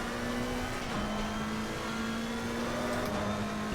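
A race car held on throttle in Assetto Corsa Competizione, its engine droning at a steady high pitch with two brief dips as it shifts, loud and close without any talk.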